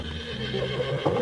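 Horse neighing with hooves clip-clopping in a Western setting, a clear whinny rising near the end over steady hoof beats, no talk.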